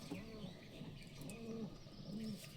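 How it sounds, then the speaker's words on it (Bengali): Pet pigeons cooing nearby in a loft, several soft rolling coos repeating over a faint background chirp and rustle, with no speech. "এই দেখুন পায়রা"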